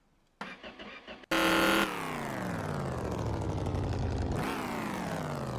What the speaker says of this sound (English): I think we are ready to see if this thing is going to fire up.